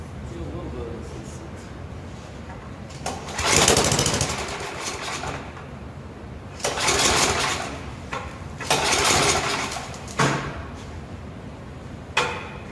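Pull-start attempts on an Ariens ST824 two-stage snow blower engine, run without starting fluid: several loud bursts of cranking that fail to catch, separated by quieter handling noises, with no talk.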